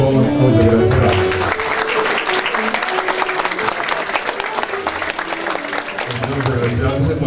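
Sustained applause from a ceremony audience honoring medal recipients at an awards ceremony in Ouro Preto, dense clapping throughout with crowd noise, swelling slightly at the start and end.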